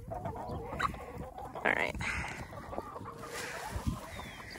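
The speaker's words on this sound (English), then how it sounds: "One woman's quest to get a chicken to eat from her hand." Chickens in a backyard setting cluck in a few short, close bursts, with someone speaking briefly and rustling in the background.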